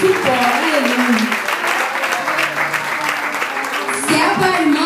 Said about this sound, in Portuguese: É assim a salva de palmas.